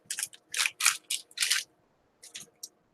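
Crinkling, rustling packaging as a brand-new RODE Podcaster USB microphone is lifted out of its well-packed box, coming in several close bursts and then a couple of shorter ones after a pause.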